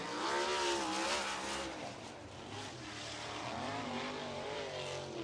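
A USAC sprint car screams around the Lincoln Park oval on a qualifying lap, its loud engine note rising and falling steadily as it passes off turn four, with no voices over it.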